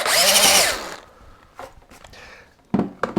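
A power drill with a screw bit bores into a pilot hole in carving wood. It gives one loud, high whine for about a second, then falls quiet, followed by a few faint clicks and handling knocks near the end.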